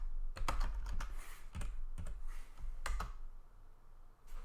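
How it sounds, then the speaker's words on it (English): Keys on a computer keyboard clack in quick irregular bursts as commands are typed, close and crisp with a few heavier thumps, alone without talk. "let's type that command again"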